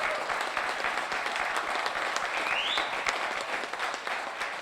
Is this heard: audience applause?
yes